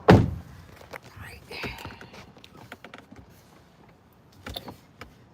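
A car door thunks shut once, loud and close, at the very start, followed by quieter rattles, creaks and a dog's jingling movement. A voice speaks faintly in the background.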